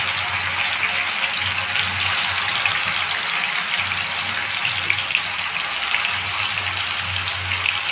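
Pieces of fish fry one by one in hot oil, making a loud, dense, even sizzle that hisses on without a break and with no talking.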